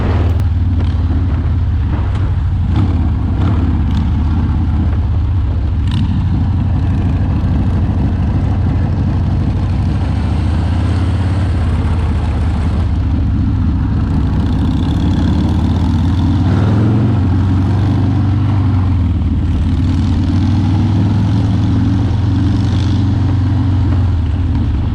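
A custom Harley-Davidson motorcycle with a Vivid Black powder-coated frame and metallic gray paint on a test ride over a bumpy road, its engine a loud, steady low rumble with shifting throttle throughout and no talk.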